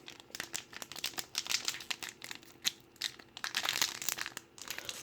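Plastic wrapper of a Magic: The Gathering 2019 core set booster pack being torn open, giving steady close crinkling and crackling with sharp tearing bursts throughout, no talk.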